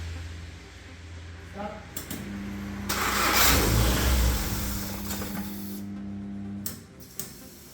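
A Ford Fiesta engine cranks and then catches, settling into a steady idle hum with a mid-range whine, loud and close, with brief clicks near the end.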